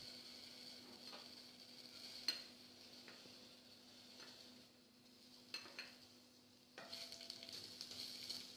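Chopped ginger and garlic sizzle in hot oil in a pan, a faint, steady hiss close by with a few light utensil clinks and a louder crackling burst near the end.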